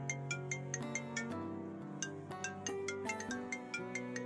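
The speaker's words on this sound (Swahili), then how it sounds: "Mara simu ya mume ikaita, hakuipokea." A mobile phone ringtone plays a steady melodic electronic tune with rhythmic repeating notes, moderately quiet and alone, running for several seconds.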